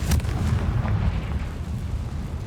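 A Confringo fire spell bursts in Hogwarts Legacy: a single loud, deep boom at the start that rolls into a sustained low rumble and crackle, with no voices.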